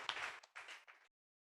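Congregation at a church testimony gathering clapping in thanks to God, three short bursts of fairly quiet applause about a second long, then silence.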